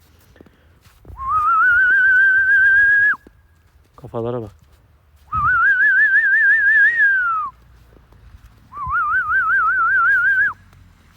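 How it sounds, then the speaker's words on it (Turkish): Three long, warbling human whistles calling dogs outdoors in snow, each held for about two seconds with pauses between, loud and close; a short spoken phrase falls in one gap. "Bir ıslık çalayım bakalım ne yapacaklar."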